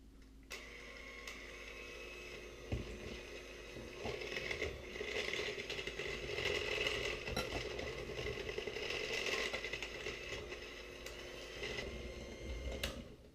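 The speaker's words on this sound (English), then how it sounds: "now I'm going to take the electric mixer and mix" An electric mixer beats cake batter with a steady whirring, rattling mechanical drone that runs continuously at moderate volume, with a few clicks and knocks as the beaters touch the bowl.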